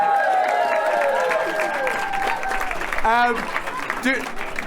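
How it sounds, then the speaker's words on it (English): An audience at a queer storytelling evening applauds a new lesbian female host: steady, close crowd clapping with cheering and voices mixed in throughout. "round of applause for Nadine, our first female host of the Queer Storytelling Evening"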